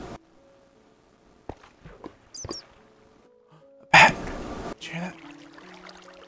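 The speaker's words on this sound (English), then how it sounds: "I know you heard that bat." A bat in the Minecraft video game lets out a quick pair of high, thin squeaks among sparse clicks, thuds and a loud noisy burst of game sounds.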